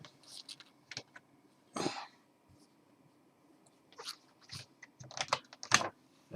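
Scattered clicks and short bursts of key presses on a computer keyboard come in uneven clusters with quiet pauses between them, close and fairly soft.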